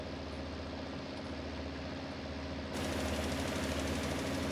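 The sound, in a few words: John Deere 7810 tractor engine in video game Farming Simulator 19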